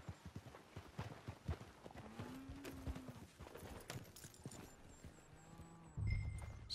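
A horse walks with steady, unhurried hoof clops in Red Dead Redemption 2, fairly faint and close, alongside soft ambient game sounds and a brief low rumble near the end.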